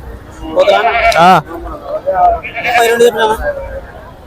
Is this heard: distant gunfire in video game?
no